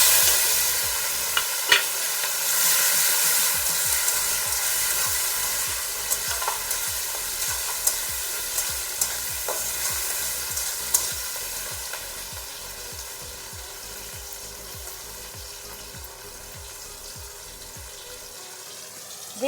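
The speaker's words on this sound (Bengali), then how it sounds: "এখন দিয়ে দেবো টমেটো আর কাঁচা লঙ্কা।" Tomatoes and green chillies hit hot oil already tempered with dried red chillies and black cumin, a steady close sizzle of frying with frequent stirring scrapes, fading slightly toward the end.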